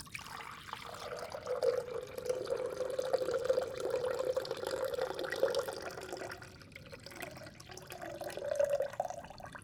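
Water runs and pours steadily into a vessel for ASMR potion making, a close, continuous trickle that swells and eases over about ten seconds, with no talking.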